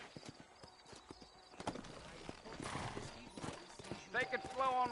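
Horse hooves clip-clop in a steady walking rhythm in the Western video game Red Dead Redemption, close and clear beneath game dialogue, with a horse whinny rising near the end.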